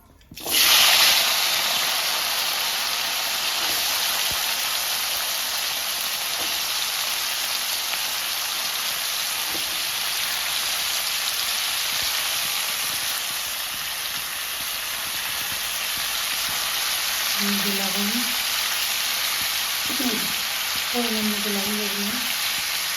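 Food pieces drop into hot oil after fish has been fried, giving a loud, continuous close sizzle that hisses steadily throughout, with a few faint tonal clinks near the end.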